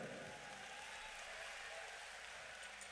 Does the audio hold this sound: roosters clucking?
no